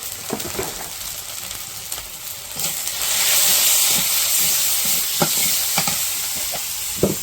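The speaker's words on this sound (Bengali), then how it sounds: "মশলাটা কষিয়ে নিই।" Turmeric, chili and cumin powder frying in a pan in a village kitchen, a close sizzle and steamy hiss that swells partway through, with sharp scraping stirs and clicks of a utensil throughout.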